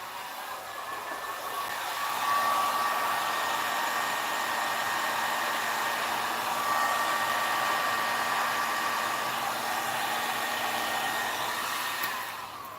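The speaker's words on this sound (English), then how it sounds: "And use the heat gun on a low setting." A heat gun on its low setting blows over a resin chopping board, giving a steady, close, even rushing hiss that holds through the whole stretch with no talking.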